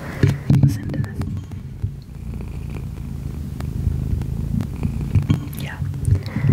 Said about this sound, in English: My cat's purring during the voiceover, if you guys can't tell.